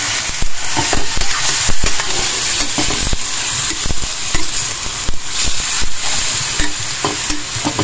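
Pork adobo is stirred in a frying pan, a loud steady sizzle broken by repeated scraping, clacking strokes of the utensil against the pan in an uneven rhythm.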